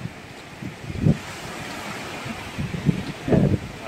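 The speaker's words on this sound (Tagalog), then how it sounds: "Nakarating na dito yung alon." Ocean waves wash onto a beach in Boracay, with soft rumbling surges rising around one and three and a half seconds over steady wind and surf noise, fairly near and moderately loud.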